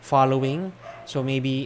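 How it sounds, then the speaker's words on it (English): Dogs bark in two short, loud bursts close by, with a brief gap between them, while a person talks over them. "Sorry about the dogs."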